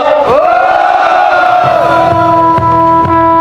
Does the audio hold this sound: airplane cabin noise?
no